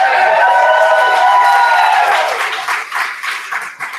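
Audience applause after a quick talk at a maker educator convening, a broad wash of clapping that runs steadily then thins and tapers toward the end, with some crowd noise mixed in.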